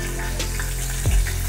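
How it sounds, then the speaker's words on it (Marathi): Mustard seeds crackle and sizzle in hot oil in a kadai as tempering for a vegetable dish, a steady close frying hiss with small pops and a brief low thump. "त्यासाठी मी कढईमध्ये तेल गरम करून घेतलेलं आहे। आता आपण यात टाकणार आहोत फोडणीसाठी मोहरी"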